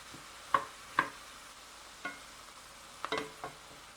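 Cabbage and sausage frying together in a pan and being stirred, with a handful of sharp scraping clatters spaced irregularly over a faint, low sizzle, several strokes bunched close together near the end.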